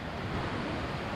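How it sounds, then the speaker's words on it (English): Steady, broadband rushing of a river in Linville Gorge, heard in the background from a trailside campsite, constant and unbroken with no voices. "You can hear the river there in the background."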